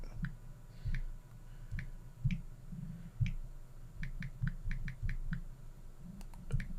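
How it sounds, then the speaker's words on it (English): An Android phone keyboard gives sharp, quiet clicks while someone texts, irregular single taps at first and then a quicker run of clicks, over a low background hum. "while I'm texting, I can't stand this whole click, click, click, click, click"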